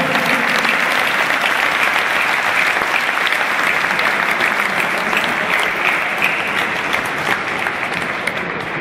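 Sustained loud applause from an audience at a New Year city cup underwater fishing event in Mali Lošinj, dense and even clapping that fills the whole stretch without letting up.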